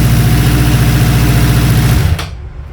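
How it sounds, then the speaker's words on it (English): A 1988 Suzuki GSX-R 750 motorcycle engine runs roughly with unsynchronized carburetors, a loud, steady throbbing idle that cuts out abruptly near the end, leaving a quieter fading rumble. "The run is a bit rough, of course, but I need to adjust the carburetors properly"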